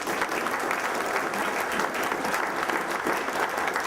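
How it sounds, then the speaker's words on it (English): An audience at a congressional district candidate forum applauds the candidates, a dense, steady clapping that fills the room, with a faint voice beneath it. "A round of applause for our candidates"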